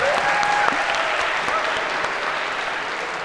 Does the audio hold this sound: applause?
yes